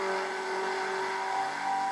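Porsche 956 race car at Le Mans in 1985, its engine droning steadily at high pitch as it passes, loud and sustained with no talk.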